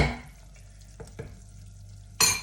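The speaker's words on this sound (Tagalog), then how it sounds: "pag niluluto nyo ito dapat nasa low fire lang talaga siya" Chili garlic oil cooking on low heat in a pan gives a faint, steady sizzle, with a couple of soft stirring taps and a brief louder burst at the end.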